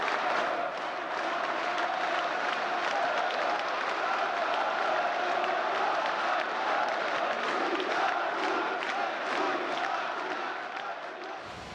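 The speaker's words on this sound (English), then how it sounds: "The crowd is unbelievably excited." A large crowd celebrating Georgia's declaration of independence from the Soviet Union roars with sustained applause, cheering and shouting, a dense and steady wall of noise that fades slightly at the end.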